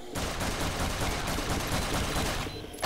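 Rapid video game gunfire rattles on continuously for nearly three seconds, a loud sustained burst of shots with no voices.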